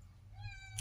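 A kitten meows once, faint and brief, a rising then falling cry at the close of the moment, over a low background hum with no talk.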